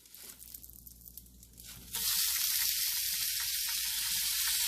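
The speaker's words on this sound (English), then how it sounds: "Took a little longer than I thought to cook all these individual steak-umms." Thin-sliced Steak-umm steaks hit a hot pan and erupt into a loud, steady sizzle that carries on to the end, after a quieter stretch of low kitchen noise.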